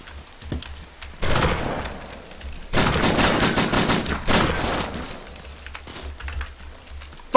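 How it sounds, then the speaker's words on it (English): Bursts of shotgun fire in a video game firefight, several heavy blasts in quick clusters with short quieter gaps between them, loud and close, no talking. "We're about to have a shotgun battle"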